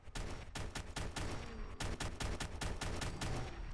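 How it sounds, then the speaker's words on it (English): DP-27 Degtyaryov machine gun fired from the hip in Fallout 4, a rapid string of loud, evenly spaced shots in short bursts with brief pauses between them. "I guess I'll just sort of hip fire him."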